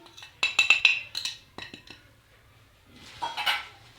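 Spice powders for tandoori chicken tikka are added to a bowl with a spoon: quick close metallic clinks and taps against the bowl, then a soft scraping rustle, with no voices.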